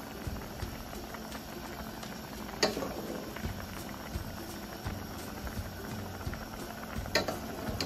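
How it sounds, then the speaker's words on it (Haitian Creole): Water boiling in a pot for a Haitian beef tripe ragout, a steady close bubbling and patter with a couple of sharper clinks, no talk. "L'eau bouillie, on va continuer à bouillir pendant que va bouillir."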